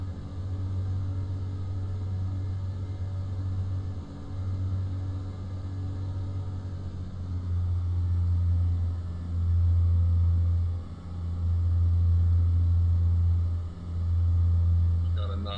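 Steady low drone of a Piper Seminole twin-engine aircraft climbing after takeoff, a loud continuous cabin rumble that swells and dips slightly, heard from inside the cockpit.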